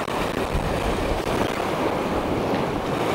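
Steady wind buffets the microphone over continuous sea waves and surf across a UK bay while boat fishing, loud and close throughout.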